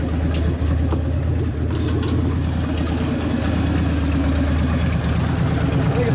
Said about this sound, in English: idle speed's up a little higher